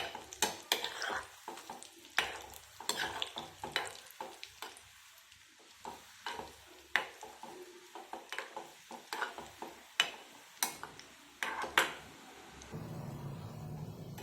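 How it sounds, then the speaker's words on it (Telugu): Gulab jamun frying in ghee over a medium flame, a steady close sizzle punctuated by frequent sharp clinks and scrapes of a spoon against the pan, with no talking. "మీడియం ఫ్లేమ్లో పెట్టుకుని వేపుకోవాలి."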